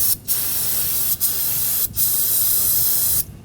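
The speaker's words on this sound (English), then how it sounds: "you can spray some brake parts cleaner to clean up some of the brake fluid" Brake parts cleaner sprays from an aerosol can during a brake master cylinder job on a 2013-2019 Ford Escape, as loud steady hissing bursts broken by three brief pauses.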